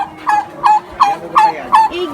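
Chickens on a poultry farm give five loud, evenly spaced clucking calls in a steady rhythm, close by and with no talking.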